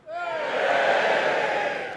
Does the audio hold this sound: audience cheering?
yes